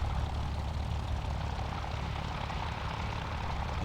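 In a flight simulator game, the engine of a Curtiss P-40F Warhawk is heard from outside the plane as a steady, low, rumbling propeller drone, fairly quiet and unbroken by voices.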